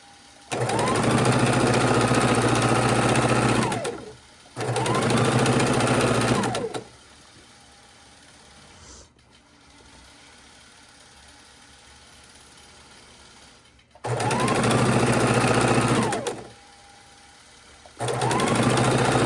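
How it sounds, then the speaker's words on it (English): A long-arm sewing machine stitches potholder seams in loud, steady bursts of a couple of seconds each, separated by quiet pauses with faint room noise. "And the stitching that you're hearing"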